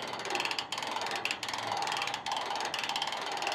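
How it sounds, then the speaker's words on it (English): A dump trailer's tarp roller ratcheting mechanism clicks rapidly and steadily as it winds, a close, dense stream of metallic pawl clicks with brief pauses. "you can hear the ratcheting system in there"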